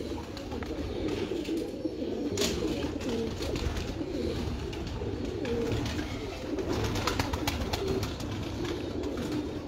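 Pigeons coo softly and repeatedly nearby, low throaty calls overlapping, with occasional sharp clicks and rustling in the background.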